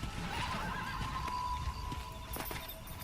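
A horse in the video game Red Dead Redemption gives a clear whinny, followed by a few hoof clops, heard up close over a low ambient background.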